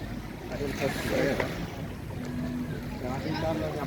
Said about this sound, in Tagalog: Mainit pero windy.